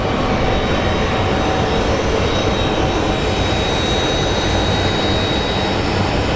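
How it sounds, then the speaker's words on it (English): An American Airlines jet arriving from Dallas Fort Worth at Phoenix Sky Harbor International Airport produces a loud, steady broadband roar with a faint high whine. It sounds close and continuous, with no talk. "American Airlines 1796 coming in from Dallas,"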